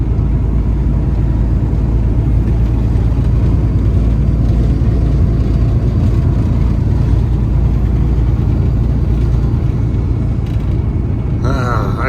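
A car cruises along Interstate 84 on a fine day, with a steady, continuous engine drone and road rumble from inside the cabin and occasional faint talk.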